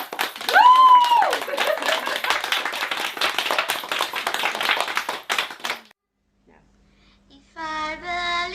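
A group of children and adults clap together during a gathering, dense clapping mixed with whoops and voices for several seconds, then a pause and a child starts singing.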